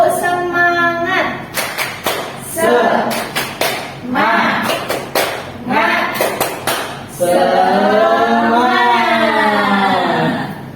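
A classroom of students performs a rhythmic clapping chant as a morning ice breaker, bursts of sharp synchronized claps alternating with group voices chanting, close and loud, ending in a long sustained shout.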